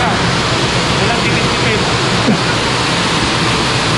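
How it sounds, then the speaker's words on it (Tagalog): An artificial waterfall at the Mall of Qatar pours in a loud, constant rushing roar heard up close, with a faint voice underneath. "Artificial falls."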